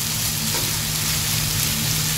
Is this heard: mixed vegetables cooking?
yes